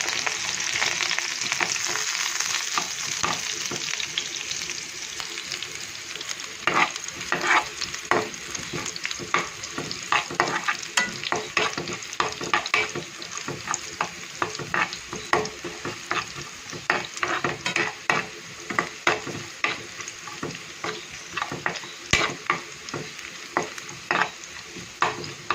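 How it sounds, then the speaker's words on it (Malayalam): Mustard seeds, curry leaves and shallots frying in hot oil for a coconut chutney tempering: a steady close sizzle broken by frequent sharp pops and the scrape of stirring. "എണ്ണ ചൂടായി നമുക്ക് കടുക് ഇട്ട് കൊടുക്കാം."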